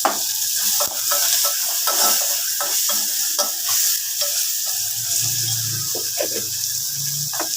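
Chilli powder and spices frying with tomatoes in a pan while a spoon scrapes and stirs in quick, uneven strokes over a continuous sizzle, close and fairly loud, with no talking.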